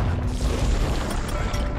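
Bombs dropped by enemies explode in the Bastion video game, making a dense, loud stretch of booming blasts and crashes that runs together without a break.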